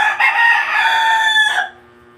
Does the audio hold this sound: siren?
no